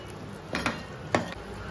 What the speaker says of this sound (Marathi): 2 मिनिटं असं हलवत राहायचं.